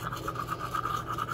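Someone brushes their teeth with a toothbrush, a steady close scrubbing rasp in quick strokes, ending in a sudden loud knock.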